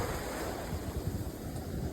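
Rolling sea waves and steady wind on the Atlantic aboard a sailboat under sail at about five knots, a continuous close wash of water with wind rushing across the microphone.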